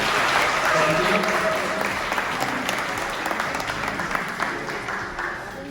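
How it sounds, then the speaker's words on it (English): An audience at a community networking event gives the speakers a sustained round of applause, dense and loud from the start and easing slightly toward the end, with faint voices underneath. "First, please give a round of applause for our speakers."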